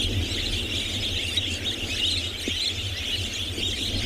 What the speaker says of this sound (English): using this continuous sound is a very distinctive way of IDing this lovely bird